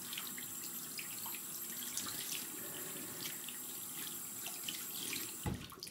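A tap runs into a sink while hands are washed with soap, a soft continuous stream of splashing water with small drips, faint and close, ending with a brief knock.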